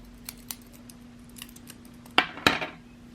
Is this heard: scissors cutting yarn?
yes